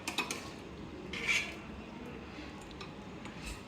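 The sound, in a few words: cooking beef with jackfruit seeds in a pot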